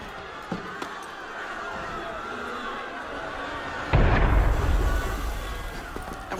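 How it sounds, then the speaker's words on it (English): A heavy cannon blast booms in Assassin's Creed Unity, a single loud low burst cutting sharply into a quieter ambient game scene and then rumbling on for a couple of seconds. "That was cannon fire."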